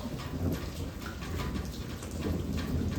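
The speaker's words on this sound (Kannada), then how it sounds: "ಮಿಂಚು ಗುಡುಗು ಸಹಿತ ಮಳೆ" Heavy rain in a thunderstorm with lightning, falling steadily on a cold day at a cattle shed; a dense, even wash of rainfall with low rumbling underneath, no voices.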